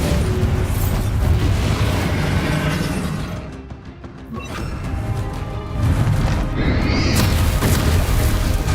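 The Bombarda spell in Hogwarts Legacy goes off in a long roaring blast of rumbling, crashing magic that dips briefly and swells again, loud and continuous, with no talking.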